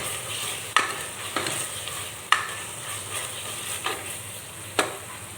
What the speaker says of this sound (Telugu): ఇలా ఆయిల్ పైకి తేలేలా వేగే వరకు వేయించుకుని